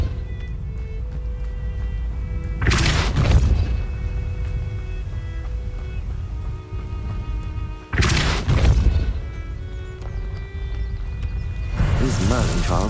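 Two sharp whooshing blasts of the Depulso force spell in Hogwarts Legacy burst out a few seconds apart over a steady humming game backdrop, with a speaking voice and a third softer effect near the end.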